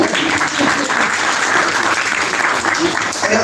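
An audience claps loudly and steadily at an evaluation report presentation, a dense, continuous wash of applause filling the room throughout.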